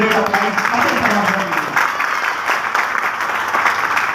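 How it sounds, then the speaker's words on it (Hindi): An audience at a meeting breaks into loud, sustained clapping for a speaker, a thick continuous roar of hands, with a voice briefly audible beneath it at the start. "एक बार जबरदस्त ताली होनी चाहिए, ग्रेट अप्लाइज।"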